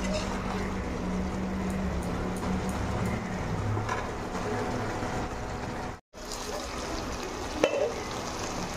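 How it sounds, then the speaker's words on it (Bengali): Chicken and potatoes bubbling and frying in their own released water in a pan, a continuous close wet sizzle with low simmering rumble, one brief cut in the middle and a faint clink near the end. "এই জলটা আমি শুকিয়ে ভেজে নেব"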